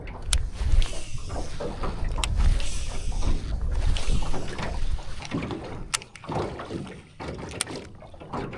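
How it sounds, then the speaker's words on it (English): A small fishing boat rocks and bangs across the water, with irregular thumps, knocks and wind buffeting the microphone, loud and close throughout. "This boat is going all over the joint."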